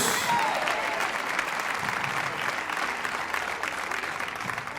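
Church congregation applauding their praise, a dense steady wash of many hands clapping at moderate volume throughout, with faint voices mixed in.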